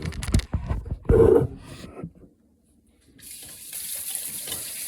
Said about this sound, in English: So rinse off the beans.